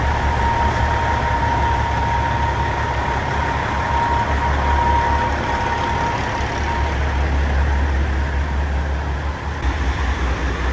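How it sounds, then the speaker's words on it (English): Truck engine running steadily inside a shop while being backed in, a constant loud low drone with a faint whine, no voices. "Gonna do a little shuffle, get some trucks backed in here again."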